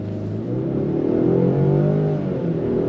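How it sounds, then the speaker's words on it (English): A 2025 Land Rover Defender 110 Heritage Edition with a smaller 4-cylinder turbo engine accelerates under throttle, a steady, rising engine hum heard from inside the vehicle, loud and continuous with no talk. "So obviously with the smaller displacement 4-cylinder turbo, you're not gonna get any kind of crazy acceleration"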